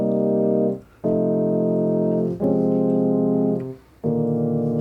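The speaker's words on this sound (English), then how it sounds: "So we got this nice organ here." A synthesizer organ patch, set to mono with the equalizer on, plays four sustained chords in a row with brief gaps between them, loud and steady with no talking.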